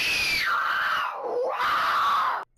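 A boy's long, loud, sustained scream in a cartoon, sliding down in pitch, dipping low midway, then rising again before cutting off abruptly.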